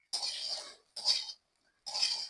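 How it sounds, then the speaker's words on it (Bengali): A knife cutting pan-fried fish eggs into small pieces, three soft scraping strokes against a pan or plate with short pauses between, quiet and close. "এখন আমি ছুরির সাহায্যে ছোট ছোট করে কেটে নিব।"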